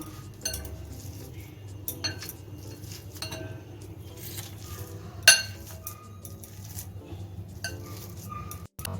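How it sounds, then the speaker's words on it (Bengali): Boiled potato mashed with a masher in a bowl: soft, faint scraping and pressing with light metallic clinks and taps at an uneven pace, one sharper clink partway through. "এখন আলুটা আমি একটা মেশারের সাহায্যে ম্যাশ করে নিব"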